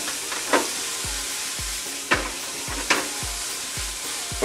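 Food fries in a pan with a constant sizzle while a utensil stirs it, scraping and clacking against the pan in an irregular rhythm of sharp hits, close and moderately loud.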